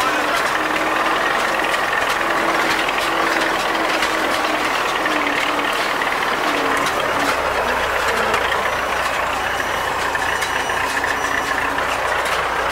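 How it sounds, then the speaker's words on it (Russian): A tractor engine under load drones steadily and loudly throughout while pulling a Claas 46 baler in a hay field, with mechanical clatter and a repeating tonal beep-like whine over the continuous rumble. "Так, очередной раз трактор начинает работать под нагрузкой."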